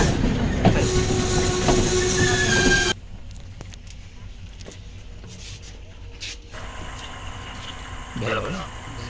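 The Badulla night mail train in Sri Lanka rumbling along the tracks, a loud steady roar with clattering wheels that drops to a quieter rolling hum midway, with faint voices in the background.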